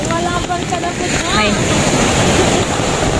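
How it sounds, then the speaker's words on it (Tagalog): Strong ocean waves surge and roar amid heavy wind buffeting the microphone, with a voice briefly heard under the noise. "Kasi may malakas yung alon."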